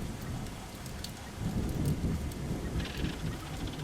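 Steady rain pours indoors through a shattered roof window, a dense continuous patter and hiss with wetter splashing that swells midway, heard alone without voices.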